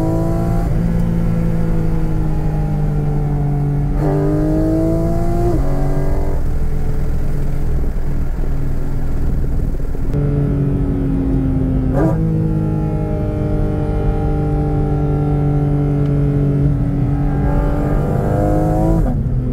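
A loud Porsche Cayman GT4 RS engine roars at speed, its pitch climbing through the gears with sharp drops at each shift, close and continuous.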